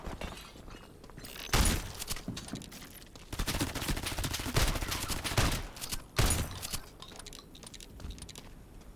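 Shotgun gunfire in a horror survival video game, From the Night, bursts out in loud, abrupt blasts, one near 1.5 seconds, a dense cluster in the middle and another sharp one near 6 seconds, over a busy background.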